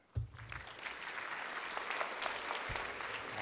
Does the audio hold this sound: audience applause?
yes